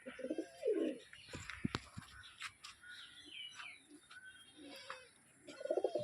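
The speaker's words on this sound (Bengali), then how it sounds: "পায়রা দেখুন," Pigeons coo in low, throaty bursts at the start and end, close and fairly soft, with scattered rustles and faint chirps in between.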